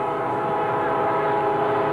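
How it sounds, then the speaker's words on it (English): A train roars past near a rugby league ground during a 1987 Monday night match between Illawarra and Canterbury, a loud, continuous rumble with no break. "train goes roaring past."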